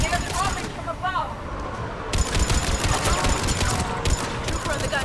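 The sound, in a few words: gunfire from trooper on mounted gun, video game Mass Effect 3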